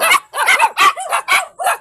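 A dog barks six times in quick succession, sharp and close, with brief gaps between each bark.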